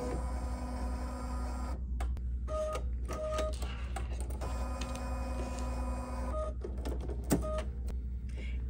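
An embroidery machine sews a placement stitch for positioning vinyl on a drawstring bag, a steady mechanical whirring with rapid needle chatter that pauses briefly a few times before resuming, with no one talking.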